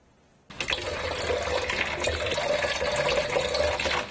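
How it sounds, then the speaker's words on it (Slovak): Water gushing from a mineral spring at Bystré near Vranov nad Topľou in eastern Slovakia as people fill containers; after a quiet moment a steady, splashing stream starts abruptly and runs on continuously, close and fairly loud. "Nabrať si vodu k prameňu do Bystreho pri Vranove nad Topľou prichádzajú ľudia z celého východného Slovenska."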